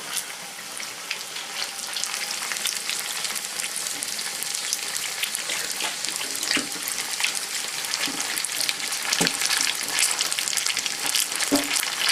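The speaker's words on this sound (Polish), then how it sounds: "I niech się smaży." Steady, dense sizzling of onion frying in hot oil, continuous crackle throughout with a few louder pops near the end.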